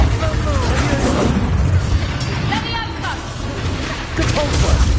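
Confringo explosive spell blasts in Hogwarts Legacy, loud repeated booms and bursts that come close together over continuous battle noise.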